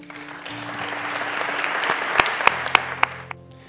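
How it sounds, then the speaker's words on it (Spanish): An awards ceremony audience gives warm applause in tribute to Elena Benito, a dense wash of many hands clapping that swells and holds, with a few sharp nearby claps standing out before it tapers off. "Me gustaría que le dirigiéramos un cariñoso aplauso y un emocionado recuerdo"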